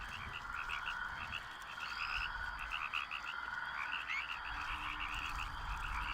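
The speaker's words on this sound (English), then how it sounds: "All I hear is frogs." Frogs in the EverQuest 2 game world croak in a dense, continuous chorus of rapid rhythmic calls over a steady ambient hiss, with no talking.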